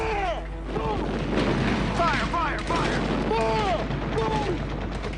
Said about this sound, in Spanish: la costa sur de California se llena de haces de luz y ráfagas de fuego antiaéreo